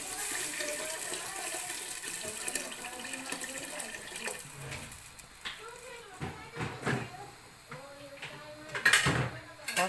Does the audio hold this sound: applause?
no